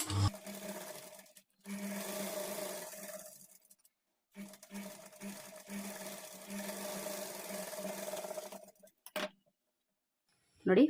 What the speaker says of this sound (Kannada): ಇದ್ರ ಮೇಲೆ ಡಬಲ್ ಸ್ಟಿಚ್ ಹಾಕ್ಕೊಳ್ಳಿ